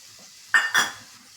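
Ginger paste and garlic sautéed in a pan for garlic mango pickle, a spoon striking the pan in two quick close metallic clinks against a quiet background, no voices.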